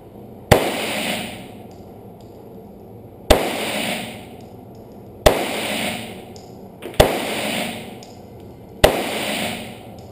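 Five loud, sharp pistol shots of 147 grain +P ammunition ring out one at a time, spaced about 1.5 to 3 seconds apart, each with a short echoing decay.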